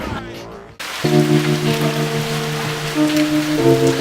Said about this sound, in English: since it's raining outside